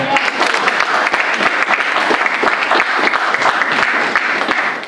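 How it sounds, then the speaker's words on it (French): Congregation at a church service clapping together in loud, dense, continuous applause that holds steady throughout, with no voices rising above it. "Acclamons la parole de Dieu."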